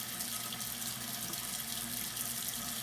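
Tap water runs steadily into a sink while someone washes their face during a nighttime skin care routine, a continuous close splashing hiss lasting throughout with no talking.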